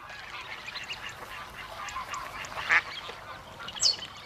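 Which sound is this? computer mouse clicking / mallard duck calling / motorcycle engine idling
mallard duck calling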